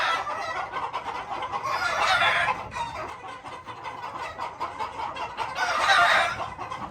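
A Sweater gamefowl broodcock rooster clucks and gives drawn-out crowing calls nearby, two louder swelling bursts separated by a run of steady clucking.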